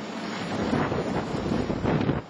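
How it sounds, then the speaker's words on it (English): Strong, gusty wind of 20 to 30 mph with higher gusts buffets the microphone in a steady broadband roar during snowfall, swelling in a few louder surges, with no voices. "We are currently experiencing sustained winds in the 20 to 30 mile per hour range with much higher gusts"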